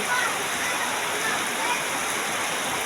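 Steady, broadband rush of flowing water, loud and continuous, like floodwater running over a road, with no distinct voices.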